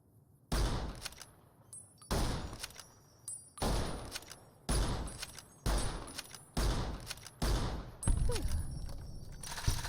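Gunfire in Fallout: New Vegas comes as sharp, loud shots fired one at a time at roughly one-second intervals, each with a short ringing tail, about eight blasts in a row with brief quiet gaps between them.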